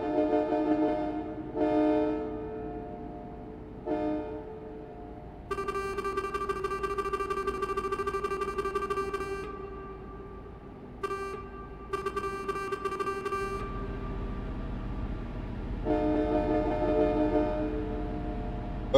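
A truck's air horn in Euro Truck Simulator blares in repeated long, tonal blasts of varying length over a low engine rumble, loud and close, with short gaps between the honks.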